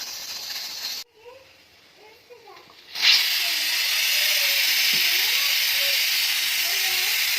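A faint hiss drops out briefly, then a loud, steady rush of steam bursts from a pressure cooker cooking chicken with bottle gourd and keeps hissing continuously until the end.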